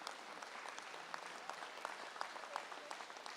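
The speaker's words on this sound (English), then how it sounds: "give them a big round of applause" Faint, distant applause rises from spectators at a state fair goat showmanship and breeding show for the youth exhibitors, a soft, even patter of many hands.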